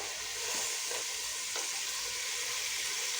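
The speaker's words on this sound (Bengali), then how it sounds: "এবার আমি এটার সঙ্গে এই সবজি যেগুলো কেটে রেখেছি সেগুলোকেও মিশিয়ে দেব।" Chopped vegetables, carrots among them, are stirred into a chicken and soybean stew frying in a pan, making a continuous close sizzle with soft stirring scrapes and no voices.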